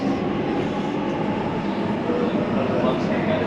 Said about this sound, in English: we're on the Shenfields via Stratford train